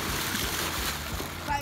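Someone jumps into a deep swimming pool, and a broad, rushing splash of water churns throughout under raised voices.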